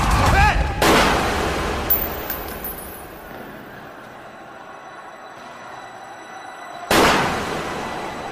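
In a drama scene, loud gunshots burst out at the start, followed by a long fading echo and faint ringing, then another sharp blast near the end.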